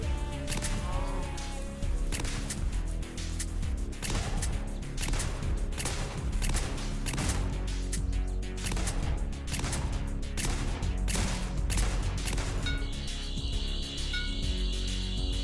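A pistol firing in the Minecraft Dalek mod: a long run of sharp, loud shots at an irregular but fairly rapid pace over a busy game backdrop, with a high electronic tone joining near the end.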